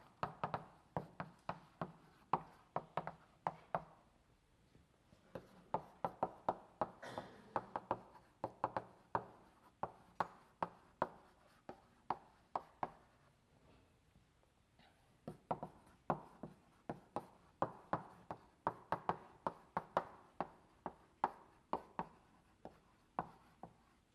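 Chalk drawing a linked list on a classroom blackboard during a lecture, a long run of rapid, rhythmic taps and scrapes in bursts with brief pauses, fairly close and with no talking.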